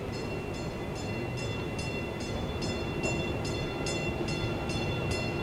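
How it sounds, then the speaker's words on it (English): A train pulls up at a station in front of a skating rink, a steady rolling rumble with rhythmic clicking bursts repeating about every half second, loud and close, no voices. "Train pulls up."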